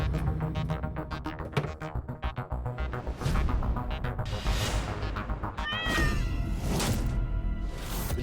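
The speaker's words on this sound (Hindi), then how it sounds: "बिल्ली की आवाज सुनी तुमने फिर?" A cat meows a few times, fairly close, amid dense, loud background sound in a scene from the TV sitcom Taarak Mehta Ka Ooltah Chashmah.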